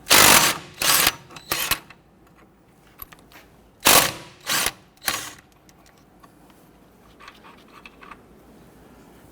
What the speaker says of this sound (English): Using a 24mm socket and a 24mm wrench, I want to go ahead,